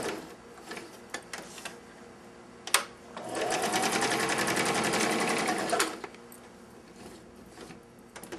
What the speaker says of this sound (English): I put navy thread in the machine, and I'll stitch them on with navy.